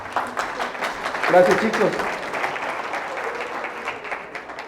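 Applause from a seated audience at a church talk, a lively wash of clapping with a few nearer claps, and someone speaks briefly over it midway.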